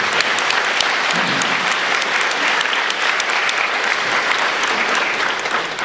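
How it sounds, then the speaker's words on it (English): Sustained audience applause at a mental health awareness event, a dense, even wash of many hands clapping that holds steady for several seconds without pause. "Give them all a big round of applause."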